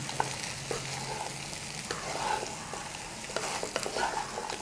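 Pumpkin pieces with turmeric being stirred in a frying pan, a soft steady sizzle broken by light scraping and clinking of the spoon against the pan, close and fairly quiet, with no talking.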